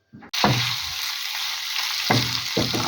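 Onion and fresh pork cook in a pan with a steady, close sizzle after it starts abruptly, broken by a few louder stirring scrapes.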